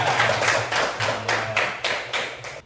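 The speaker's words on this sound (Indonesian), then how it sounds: "Tepuk tangan Anwar." A classroom group claps together in a fairly close, rhythmic burst of applause, steady beats of many hands that carry through a short stretch without talk.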